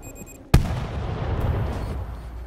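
A single sharp explosion goes off in the video game World War Z, a loud close blast followed by a long rumbling tail of debris and echo that slowly fades.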